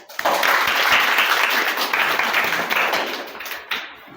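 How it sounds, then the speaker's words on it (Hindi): A classroom of students gives a round of applause, dense steady clapping from many hands that starts abruptly, holds for about four seconds and thins out toward the end. "चलिए इनके लिए तालियां हो जाए।"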